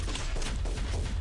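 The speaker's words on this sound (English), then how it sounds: "that should be the manual guidance rockets" Manually guided rockets launching in Pixel Gun 3D, a dense rumbling burst of low booms and whooshing blasts that rolls on continuously and fairly loud.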